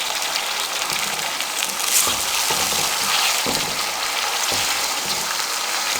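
Chopped tomatoes frying with onions in oil for vegetable biryani, a steady loud sizzle with occasional stirring scrapes throughout.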